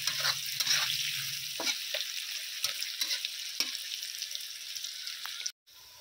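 Chopped onions frying in hot oil, a bright crackling sizzle punctuated by several stirring clicks and scrapes, fading toward a sudden brief cutoff at the end.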